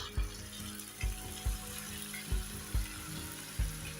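Oil sizzles steadily in a pan as tomatoes fry after garlic and onion for haleem, with periodic low thumps from a spoon or stirring knocking the pan roughly every half second, no talking.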